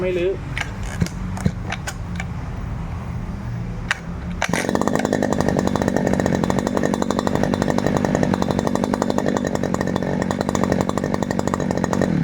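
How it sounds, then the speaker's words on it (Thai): A small Robin NB351 two-stroke brush cutter engine, used and from Japan, starts up partway through and then runs steadily at a loud, buzzing idle, after quieter handling noises. "เครื่องตัดหญ้ายี่ห้อโรบินนะครับ NB 351เก่าญี่ปุ่นนะครับ"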